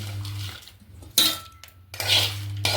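Clinking and rattling as fried chillies tumble into a mixer jar, a few sharp clatters separated by short pauses, close up with no voices.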